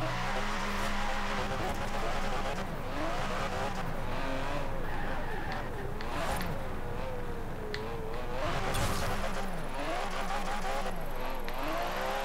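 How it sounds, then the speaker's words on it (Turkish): Tires squeal and skid through wheelspin while a car engine in Forza Horizon 4 revs and wavers continuously, loud and close, with rising and falling pitch sweeps filling the whole stretch. "Güzel patinaj çekiyor."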